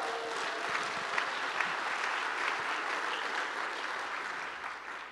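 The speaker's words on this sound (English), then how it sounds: "Just give yourself a round of applause." A conference audience at the opening of CascadiaJS 2019, a JavaScript developer event, applauds in a dense, steady wash of many hands clapping. It is even and sustained for about five seconds and tapers slightly at the end.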